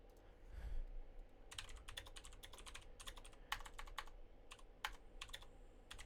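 Keys tap on a computer keyboard in quick irregular bursts as a short message is typed, close and clear over a low room hum, with no voices.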